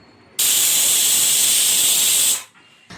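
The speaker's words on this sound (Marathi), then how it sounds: "आपण आता इथे कुकरला झाकण लावून घ्यायचंय आणि 8 ते 10 शिट्ट्या आपण इथे करून घेणार आहोत" A pressure cooker whistle shoots out a loud, sharp jet of hissing steam while mutton curry cooks, holding steady for about two seconds before tapering off, then a fresh burst starts at the end.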